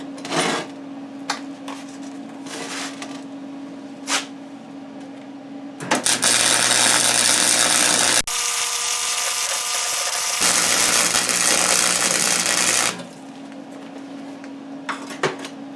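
Welding a bead to join dock brackets: a few scattered clanks and taps, then a loud, continuous crackling hiss for about seven seconds before it cuts off to quieter handling noise.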